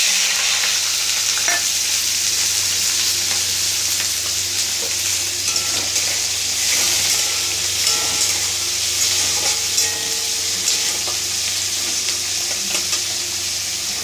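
Garlic cloves, green chilli and onion fry in a pan with five-spice seeds, a loud continuous sizzle close by, broken by the scrape and clatter of stirring, with no voices.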